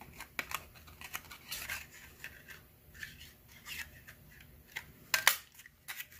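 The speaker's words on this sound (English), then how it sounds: "so let's just go ahead and cut this one out." Scissors snipping paper for a junk journal flap pocket page, a series of quiet, irregular close cuts and rustles with a sharper burst near the end.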